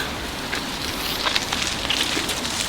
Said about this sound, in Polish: Tu widać, że pada deszcz.